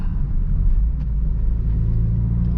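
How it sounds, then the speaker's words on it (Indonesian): A manual car's engine rumbles low and steady after braking and downshifting into second gear at slow speed, heard from inside the car with a slight rise in pitch toward the end. "Saya rem, karena ini terlalu pelan bisa turun ke gigi"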